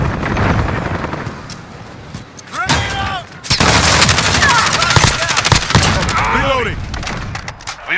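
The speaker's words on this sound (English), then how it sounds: "Flashbang out!" Call of Duty Modern Warfare firefight with bursts of rapid gunfire, sharp impacts and a flashbang grenade, loud and dense, with a brief lull before firing resumes; game voice callouts are heard amid the shots.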